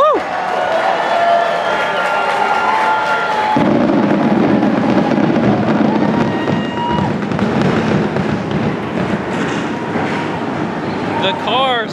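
Fireworks bang and crackle over a loud, steady crowd and race-car engine rumble at a NASCAR race in Atlanta, the bursts blending into a continuous roar with cheering.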